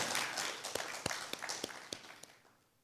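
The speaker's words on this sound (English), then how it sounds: "please give all our sponsors, partners, and supporting bodies a resounding round of applause" An audience at a conference session in Singapore applauds its sponsors and partners, a steady wash of clapping that thins into a few sharp individual claps and then fades out.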